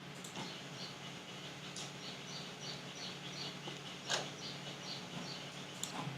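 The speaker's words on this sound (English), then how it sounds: "there are lots of birds in the background." A few faint bird chirps sound at scattered moments over a steady background hiss, distant and sparse.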